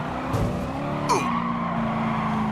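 Race car tires squealing and skidding with engine whine during a pit maneuver in the Gran Turismo racing game, a short sharp screech over steady motor drone.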